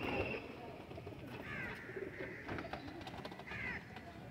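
Pigeons in a pigeon-club loft give soft, repeated cooing calls at moderate distance over a steady background murmur, with a voice faintly audible.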